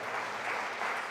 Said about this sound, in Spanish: Fuertes aplausos a nuestro Dios, hermanos.